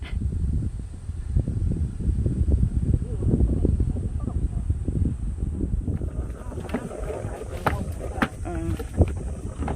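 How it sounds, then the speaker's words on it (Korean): Strong wind buffets a campsite beside a Starex camper van, a steady low roar with microphone gusts running throughout, while people talk and laugh over it. "바람이 많이 분다"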